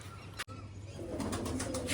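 Pigeons coo softly in a rooftop loft where a keeper is releasing young birds, with low repeated coos, a sharp click near the start and faint rustling, no voices.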